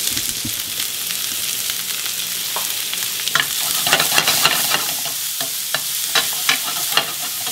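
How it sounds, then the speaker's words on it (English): Red onion and garlic sautéing in a pan give a continuous loud sizzle, with scattered stirring clicks and scrapes growing busier toward the end. "The onions are cooking. The garlic's turning brown."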